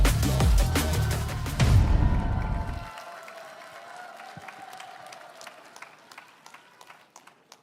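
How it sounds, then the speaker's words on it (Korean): Audience applause and cheering at a political concert event welcoming a newly recruited party figure, loud and dense at first, then cutting off abruptly and trailing into scattered claps and a faint hall ambience. "큰 박수와 함성으로 맞이해 주시기 바랍니다."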